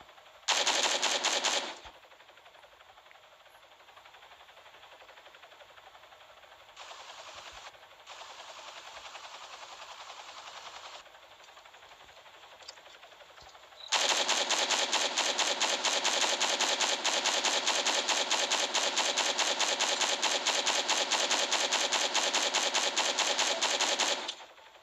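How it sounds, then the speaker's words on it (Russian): An M762 machine gun in a video game fires a short, loud burst, then goes quiet apart from fainter bursts, then unleashes a long, sustained rattle of rapid shots lasting about ten seconds. "Защитный пулемет."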